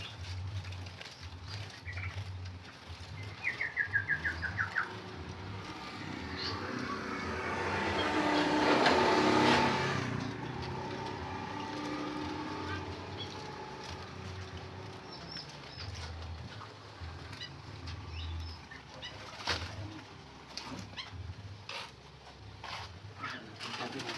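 Songbirds at a bird seller's shop, with scattered chirps and cooing calls over a busy background of rustling and shuffling, heard from near to middle distance without talk.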